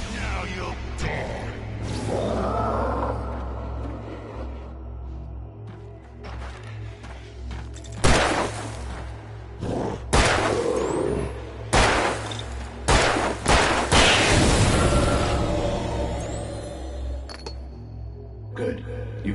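Gunfire in the Alan Wake video game, a series of sharp shots and short bursts scattered over a low ambient drone, some rapid clusters, moderately loud with speech in places.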